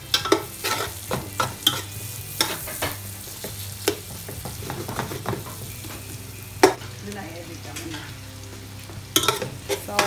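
Onion sautés in a pan for adobo, a loud sustained sizzle broken by frequent scraping stirs and clattering utensil knocks against the pan.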